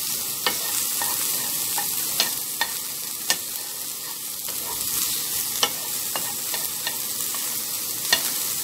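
Cauliflower being stirred in a dry, hot pan with onion, before any oil goes in: a steady close scraping and shuffling with sharp utensil clicks at irregular intervals over a faint sizzle, with no talking.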